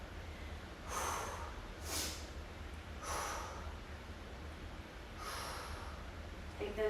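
Breathing during an arm workout comes as four soft, close inhale and exhale breaths, evenly spaced about a second apart over a low steady background hum.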